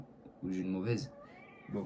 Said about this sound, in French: Il miaule, hein. Il miaule souvent